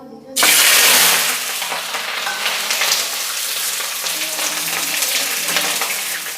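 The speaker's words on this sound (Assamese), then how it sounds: "এতিয়া মই কৰিম এই বস্তুটো অলপ ফ্ৰাই কৰি লওঁ" Capsicum and potatoes hit a hot pan and fry with a loud, close, continuous sizzle that bursts in at the start and stays steady throughout.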